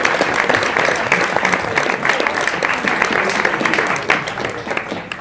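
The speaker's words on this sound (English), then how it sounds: "We can have a clap for that one." At a Sundance Film Festival Q&A for the film Nancy, an audience breaks into sustained applause, a thick, even patter of many hands clapping that fades slightly toward the end, with no speech over it.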